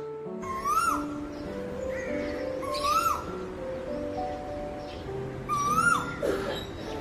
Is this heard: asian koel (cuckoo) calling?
yes